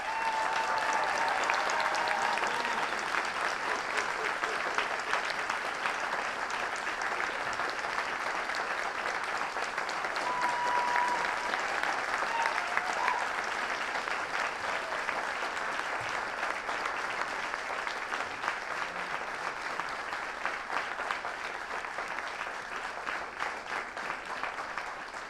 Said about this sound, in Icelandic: Og nú eigið þið skilið gott klapp.